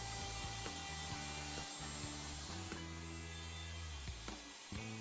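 A router cutting a wooden socket board guided by a dovetail jig template, a continuous loud motor whine with a rough grinding cutting texture that shifts as the bit moves in and out, close and alone without talk.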